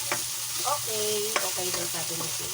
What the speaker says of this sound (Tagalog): Pagkatapos natin i-prito yung ating bagoong alamang